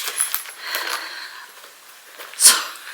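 Car keys are pulled from a bag with light metallic jingles and clinks, up close and fairly bright, ending in one sharper rattle near the end, no talking.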